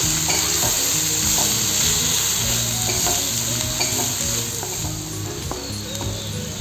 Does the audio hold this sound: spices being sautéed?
yes